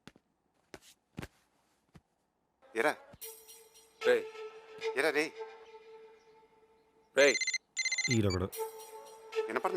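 A telephone rings in a repeating electronic tone pattern, sounding in several bursts that alternate with short spoken lines in a comedy film scene.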